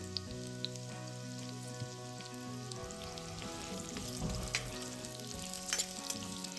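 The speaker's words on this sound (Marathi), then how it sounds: "जरा फ्राय करून घ्यायचे त्या." Pieces of drumstick (moringa) pods fry in a pan with a steady, close sizzle that runs unbroken throughout, with small crackles popping on top.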